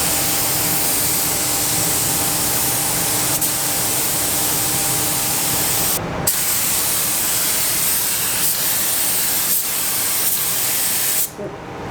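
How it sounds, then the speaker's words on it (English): A spray gun blasts paint steadily into a Toyota Corolla engine bay, a loud continuous hiss lasting many seconds, broken only by a brief pause midway and another near the end. "This gun is way too big for doing engine bays. Too big? Yeah. Need like a little spray gun."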